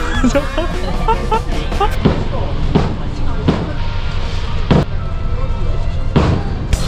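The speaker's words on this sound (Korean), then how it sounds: "저희는 불꽃놀이까지 왔습니다" Fireworks burst with sharp, booming pops every second or so, some distance away at Tokyo DisneySea on a rainy night, while a crowd chatters and people talk nearby.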